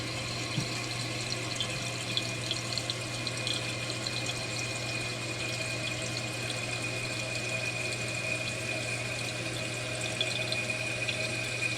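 A toilet tank refills through a Fluidmaster 400A fill valve, a steady, even hiss of rushing water with a faint hum underneath, continuous and close, with no talking.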